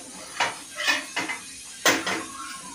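A banana leaf is flipped over in a pan while palm-sugar pitha cooks inside it, giving a few separate soft rustling scrapes and clatters of leaf against metal, close and quiet, spaced out over a few seconds.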